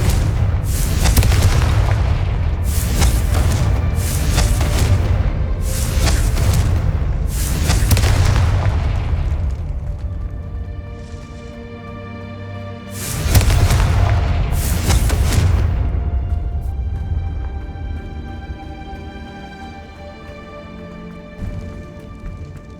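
In the Hogwarts Legacy video game, the Confringo spell fires a series of loud booming explosions in quick succession, a pause follows, then two more blasts come with ringing, musical tails that fade away.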